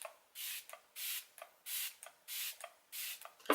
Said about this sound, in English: I'm gonna be spraying my face with my MAC Fix Plus.